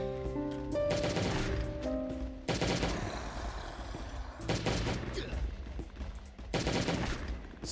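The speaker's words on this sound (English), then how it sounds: "Goodness, these guns miss so much!" Bursts of gunfire from several guns in Last Day on Earth: Survival rattle in rapid volleys, with short pauses between them and a tonal game music bed underneath.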